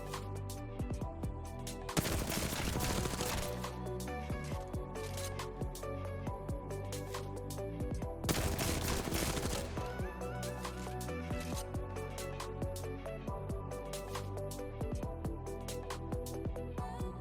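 Two bursts of rapid automatic gunfire from a video game weapon crackle loudly over steady background music, each lasting about a second and a half. The gun is fired with an XIM Matrix anti-recoil setup.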